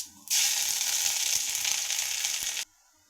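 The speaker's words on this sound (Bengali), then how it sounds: "মশলাগুলো সব একটু ভাজা ভাজা হয়ে গেছে" Ginger paste hits hot oil in a wok along with dried red chilli, bay leaf, garam masala and whole cumin, bursting into a sudden loud, hissing sizzle that holds steady for about two seconds and then cuts off.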